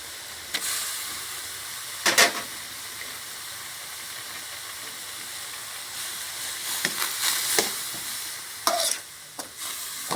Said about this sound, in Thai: พริกแกงเดือดแล้วนะคะหมูสไลด์ใส่ลงไปเลย